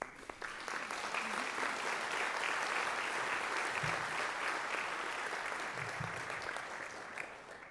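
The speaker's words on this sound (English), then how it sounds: "a round of applause for Reverend Ken." A church audience in Knox Presbyterian applauds for a reverend at a winter concert, steady, dense clapping that fills the space and continues throughout, a few voices faintly audible beneath.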